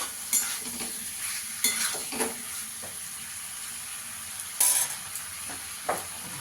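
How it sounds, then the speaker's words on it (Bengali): Kohlrabi being stir-fried in a pan for a Katla fish curry: a quiet, continuous sizzle broken by several scraping stirs of a spatula against the pan, with sharper bursts at irregular intervals. "ওলকপিটা দিয়ে ভালো করে একটু কষিয়ে নেব"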